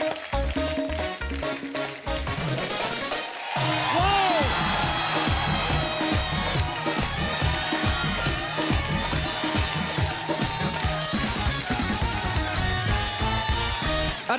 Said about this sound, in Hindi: एक बार अर्चना जी के लिए जोरदार तालियां हो जाए।